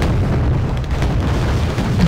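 Dense artillery bombardment in Wargame: Red Dragon, a loud continuous rumble of overlapping explosions with deep booming low end and scattered sharper blasts, with no talk.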